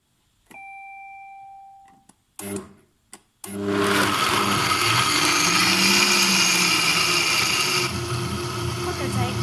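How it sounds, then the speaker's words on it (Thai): Soybeans and water, one part beans to two parts water, whir loudly in a blender for homemade soy milk, starting after a few clicks and a short beep, then running continuously at high speed. "แล้วก็ถั่วหนึ่งน้ำสองนะคะ อันนี้ก็จะเริ่มปั่นกัน"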